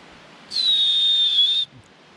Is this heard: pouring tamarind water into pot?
no